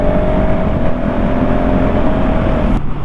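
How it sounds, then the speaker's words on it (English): 2019 KTM 690 SMCR single-cylinder motorcycle riding with an auto-blipper, a loud steady engine drone with wind noise that drops sharply near the end as the rider shifts down. "But the down blipper, that is incredibly smooth."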